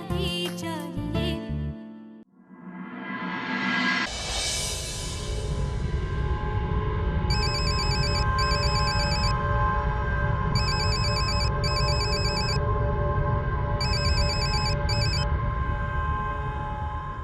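A telephone rings in repeated electronic bursts, loud and close, after a short musical sting, with a steady background bed underneath and no talking.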